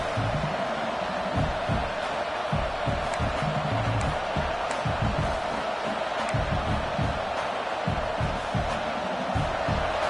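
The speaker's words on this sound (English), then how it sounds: "This crowd trying to make life miserable for this offense." Dense stadium crowd roar at a college football game, a steady loud wash of many voices with scattered shouts, continuous for the whole stretch.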